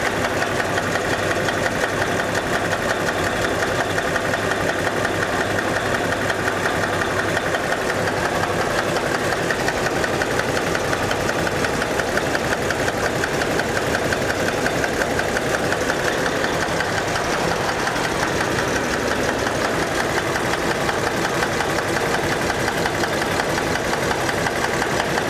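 A Peterbilt truck diesel engine idling loud and close with a steady, rough knocking rumble, running unevenly from a bad number one injector that leaves one cylinder misfiring.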